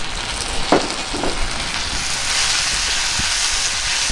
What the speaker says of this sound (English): and just sauteed it for some time